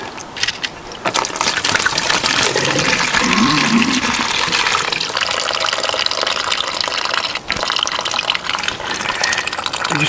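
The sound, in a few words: water flushing through Triumph Tiger 955i coolant hoses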